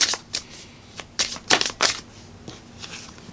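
Tarot cards being shuffled for a clarity card in a love reading, heard as a run of quick, crisp riffling bursts of uneven spacing, close and fairly loud, with no talking.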